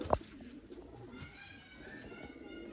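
A male slate-grey Sialkoti pigeon gives a single short coo right at the start, then only low, quiet background noise remains.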